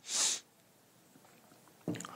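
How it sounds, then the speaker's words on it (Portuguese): A person with a cold sniffs once, a brief breathy nasal burst at the start, followed by a short low rustle near the end. "não tô fungando porque eu uso droga não"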